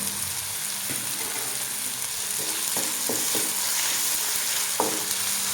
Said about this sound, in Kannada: ಈರುಳ್ಳಿ ಇವಾಗ ಶುಂಠಿ ಬೆಳ್ಳುಳ್ಳಿ ಪೇಸ್ಟನ್ನು ಹಾಕ್ತಾಯಿದ್ದೀನಿ